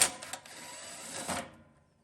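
A socket wrench backs screws out of an England Stove Works Smart Stove 25-CB120 pellet stove, one close ratcheting burst of about a second and a half that then fades to quiet.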